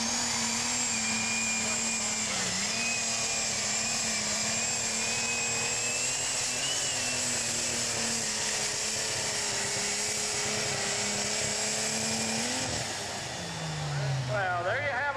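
A super stock pulling tractor roars at a tractor pull in Mt. Gilead, Ohio, a loud, steady engine howl that holds for about twelve seconds and then drops in pitch as it winds down.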